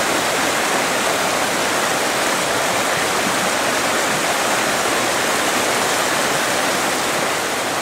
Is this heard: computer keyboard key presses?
no